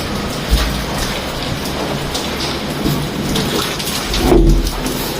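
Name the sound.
heavy rain and thunderstorm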